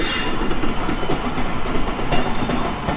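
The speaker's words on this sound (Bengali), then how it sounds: "আমাদের ট্রেন এখন বেরোচ্ছে শিয়ালদা স্টেশন দিয়ে" The Sealdah–New Delhi Rajdhani Express, an Alstom three-phase rake hauled by Howrah engine 39178, rolls out of Sealdah station, its wheels clattering loud and close over the rails with a steady rumble.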